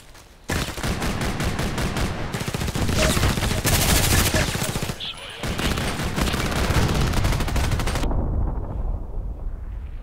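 Sustained machine gun fire in the online shooter Contract Wars, loud and close, with rapid continuous bursts broken by a brief pause midway before firing resumes and then cuts off.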